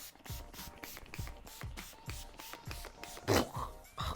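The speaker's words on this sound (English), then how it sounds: "the last step will be using this NYX All Nighter setting spray" A NYX All Nighter setting spray hisses in a short series of quick bursts, fairly close, with one stronger blast near the end and no talking.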